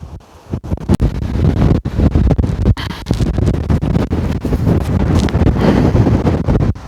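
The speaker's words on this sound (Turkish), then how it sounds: "Of felaket bir rüzgar var. Telefon nasıl sallanıyor?" Heavy wind buffeting a phone microphone at a viewpoint in Kyrenia, Cyprus, a loud continuous rumbling roar with gusty thumps and brief dropouts throughout.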